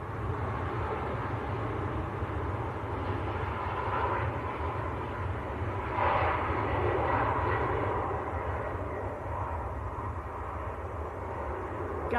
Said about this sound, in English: Ryanair to Milan on the roll.